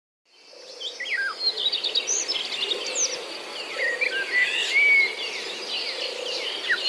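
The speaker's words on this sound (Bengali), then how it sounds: "সকাল হতেই বেজে উঠেছে পাখিদের কিচিরমিচির শব্দ।" Birds chirp and twitter in a lively chorus against a steady insect-like trill, with varied high calls overlapping throughout.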